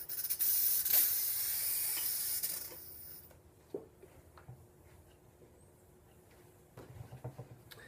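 A ClusterO2kit oxygen flow starts with a loud close hiss of rushing gas for about three seconds, then cuts off, leaving quiet handling clicks and taps.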